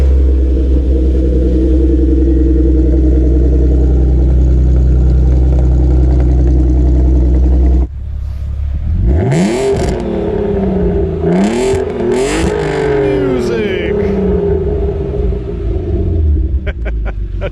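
V6 engine in an Audi TT VR6, non-turbo, rumbling loud and close at first, then climbing through several rising and falling revs as the car accelerates through gears.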